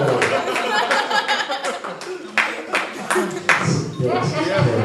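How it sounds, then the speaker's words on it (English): A comedy show audience gives scattered clapping mixed with chuckles and laughter, a crowded and fairly loud burst heard indoors, with voices talking over it. "Applause break, Alex, for Parkinson's."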